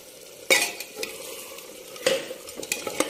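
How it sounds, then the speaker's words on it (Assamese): A spoon scrapes and stirs mutton with potatoes frying in a pan, with sharp stirring clatters at intervals over a soft continuous sizzle. "আলুখিনি এনেকে মাংসখিনি লগত অলপ ভাজি ললো"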